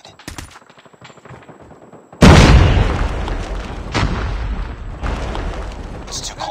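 A frag grenade explodes in COD Mobile with a sudden loud boom that rolls into a long, decaying rumble, followed by further bursts of gunfire, while game voice callouts come and go.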